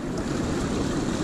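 Sea waves roll onto the shore at La Lisera beach in Arica, Chile, as a steady, loud wash of surf with some wind buffeting the microphone and no pauses.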